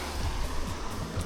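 River water at Argelita, a village in the Valencian Country, makes a steady, close, broad rushing wash with no clear breaks.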